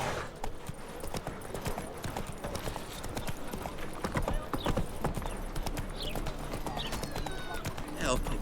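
Roach, a horse in The Witcher 3, clip-clops along with steady, close hoofbeats throughout, a brief whinny in places, and a voice talking over the top.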